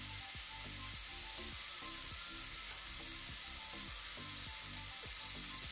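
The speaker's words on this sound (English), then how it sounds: "just want to kind of sear the pieces on both sides" Oxtail pieces sear in a hot pan with a steady bright sizzle, overlaid by a repeating low rumbling pulse, close and constant with no talking.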